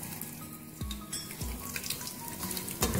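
Almonds, pistachios and coconut fry lightly in a pan for jaggery rice, giving a soft sizzle broken by a few dull knocks of stirring.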